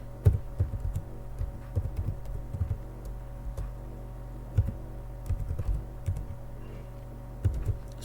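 Typing on a computer keyboard, steady clusters of light key clicks with short pauses, close by over a constant low hum, no talking.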